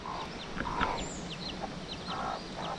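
A hen clucks in short bursts close by in Munduk, northern Bali, with faint chirping birds in the background over a steady outdoor hum.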